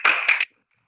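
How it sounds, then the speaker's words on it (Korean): Brief burst of hand clapping welcoming a guest at a civic forum, lasting under half a second with a couple of louder claps before cutting to silence. "뜨거운 박수로 우리 이지영 위원님을 맞이하겠습니다."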